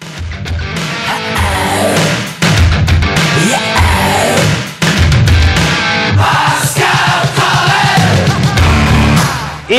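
Wedding guests at a toastmaster-led celebration in Bishkek cheer and applaud loudly in a dense, sustained crowd roar with brief dips, shouts rising above the clapping.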